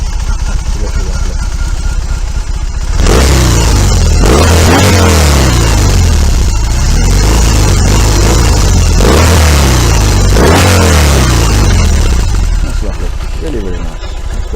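BMW R18 motorcycle engine idling low and lumpy, then firing up loud and close with several hard revs that rise and fall in sweeping surges, a deep throbbing exhaust filling the whole stretch.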